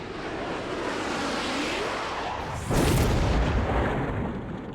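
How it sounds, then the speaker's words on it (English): Missile strikes explode in the Mechabellum strategy game, a dense rumbling roar that swells into a louder broadband blast about halfway through and keeps booming to the end, with no voices. "Okay, the missiles begin."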